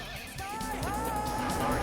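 Horse neighing from a Sega video game: a clear, wavering whinny stretching out over nearly two seconds, fairly loud, over a low background.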